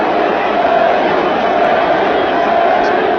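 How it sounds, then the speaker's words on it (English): Dense, loud baseball stadium crowd roar during a 2000 NLDS playoff game, a steady wash of massed voices swelling toward a chant, with no clear gaps for the whole stretch. "And the crowd is already starting to chant, Benny Agbayani"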